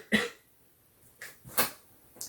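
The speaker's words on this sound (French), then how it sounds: "je vous pète les oreilles à chaque fois que je tousse" Close coughing straight into a microphone, three or four sharp, loud bursts spaced unevenly over a couple of seconds, harsh and dry from a scratchy throat, with no talking.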